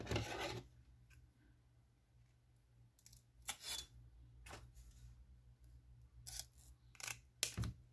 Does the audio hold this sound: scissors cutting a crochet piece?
yes